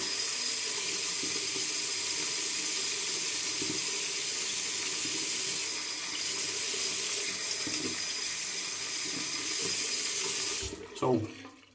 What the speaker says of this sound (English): Let me rinse a little bit better to take all the hair out.